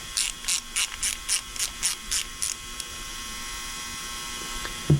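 Rapid ratchet clicks in about nine short bursts as the carburetor float bowl is tightened down on a Troy-Bilt 24-inch 179cc two-stage snowblower, close and crisp, followed by quiet with a small clunk.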